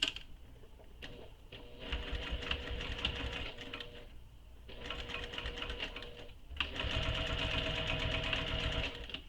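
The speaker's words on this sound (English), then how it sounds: "I'm going to stitch this in place" A sewing machine stitches a handbag seam in two close, loud bursts of rapid rattling motor chatter, separated by brief pauses.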